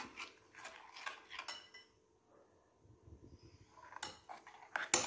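Spices mixed into a tandoori chicken marinade, with bursts of a spoon clinking and scraping against a bowl around a quiet pause, fairly faint and close, no talking.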